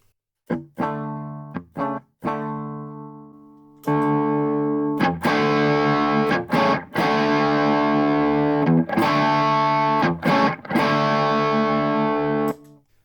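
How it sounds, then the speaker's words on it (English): An electric guitar through an MXR Classic Distortion pedal plays a few sparse single notes, then loud, sustained distorted chords with short gaps between strums, close and alone without any talk. "We'll start off first with the Classic Distortion. Here's my reference tone."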